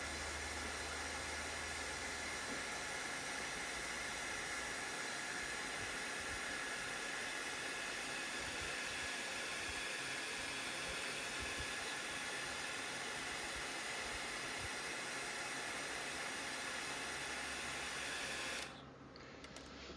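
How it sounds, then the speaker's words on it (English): A hairdryer blows steadily and loudly at close range, warming the adhesive behind a badge on a Peugeot 106 GTI, a broad even rush of air that holds for about nineteen seconds and then cuts off abruptly near the end. "So I just heat it up quickly with the hairdryer."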